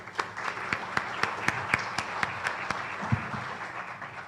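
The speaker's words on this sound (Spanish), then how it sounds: "recibamos con un fuerte aplauso a la Magíster Amanda Barraza de Wong." Audience applause at a tax-auditing conference talk as a speaker is welcomed, a modest burst of individual claps in a steady rhythm, fairly close and sparse rather than a dense roar.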